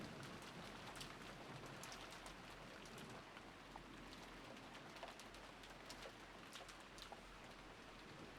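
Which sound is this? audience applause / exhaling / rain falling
rain falling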